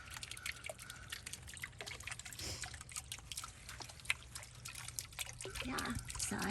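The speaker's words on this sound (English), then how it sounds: "so we'll just have the water circling." Water circulating in a small backyard fish pond, a soft steady trickle and drip running continuously at moderate distance with faint rustling and a low hum beneath.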